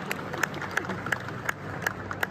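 A crowd applauds at a horsemanship demonstration. The clapping is steady and sits at a middle distance, with sharper claps standing out at a regular pace and a faint background murmur beneath.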